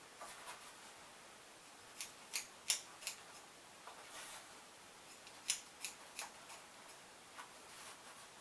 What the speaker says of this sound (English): you want to go ahead and just simply cut into the fabric